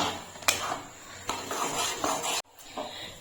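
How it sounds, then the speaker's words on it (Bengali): Semolina and grated carrot being stirred together in a pan, with a few sharp utensil scrapes and clinks against the metal spread over a few seconds; fairly quiet and close, with no talking. "এখন আমি সুজিটাকে ভালো করে সুজি আর গাজরটাকে ভালো করে মিশিয়ে জাল করে নেব"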